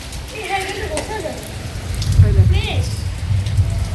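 Steady rain patters on a rooftop, with faint voices talking in the background and a low rumble underneath.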